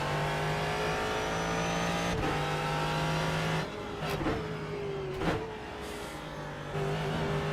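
Ford GT3 race car engine in iRacing at VIR, a loud steady harmonic drone that holds, dips briefly with shifts and lifts, then climbs again as the car accelerates, close and continuous with no talk.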